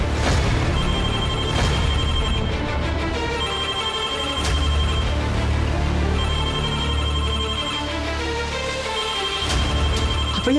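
Mobile phone ringing during a quiz game show, a loud repeating ringtone melody with regular bursts over a busy background.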